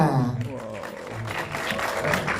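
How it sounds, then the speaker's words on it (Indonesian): Audience at an Indonesian film press conference clapping, a short burst of applause running under an announcer's voice, fairly close and steady for a couple of seconds. "Masih banyak nih teman-teman, tepuk tangannya lagi dong."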